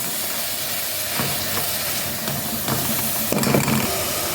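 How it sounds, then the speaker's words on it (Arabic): Onions and vegetables fry in a pan with a soft steady sizzle and hiss, broken by several stirring scrapes and clatters that grow busier toward the end, no voices. "هبتدي انزلها مع شويه البصل اللي انا حطيته، وهبتدي اقلب"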